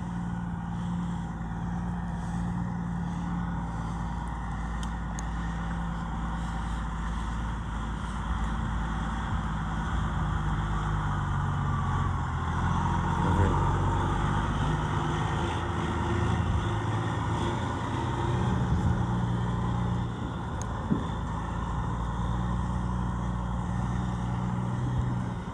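A Freightliner Classic truck engine rumbles steadily at low pitch while being driven and backed, a continuous moderate drone with slight swells and no talking.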